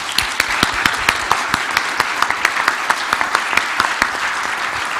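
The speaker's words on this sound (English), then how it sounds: "give a warm round of applause for our brilliant panelists" Audience applause for the panelists at a conference, a steady, fairly close wash of many hands clapping with no talk.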